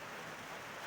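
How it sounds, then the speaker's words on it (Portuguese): Steady rain falling on a cloudy, overcast day at home, a continuous broadband hiss filling the short stretch at an even, moderate level with no talk over it. "Tá chovendo"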